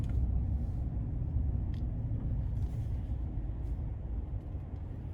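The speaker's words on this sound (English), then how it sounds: "All I can hear are the cars passing in front of me." Inside the quiet cabin of a lifted GMC Sierra 1500 AT4 pickup, a low, steady road rumble carries faint whooshes of cars passing outside, with no voices.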